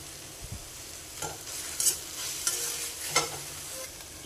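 A dry shrimp (javla) chutney is stirred in a pan after coriander goes in, giving a few close, crisp scraping strokes over a faint sizzle.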